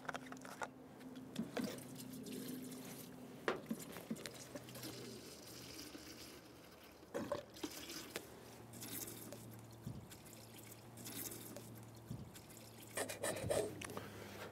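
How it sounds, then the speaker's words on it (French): Finalsan Ultima natural herbicide poured from a 1-litre bottle into a 5-litre garden sprayer, a steady liquid trickle and glug that runs on quietly with no talking. "Il suffit de le vider à l'intérieur."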